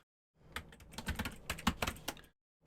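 Rapid keystrokes on a computer keyboard, close and crisp, come in a dense burst of irregular clicks for about two seconds, with silence on either side.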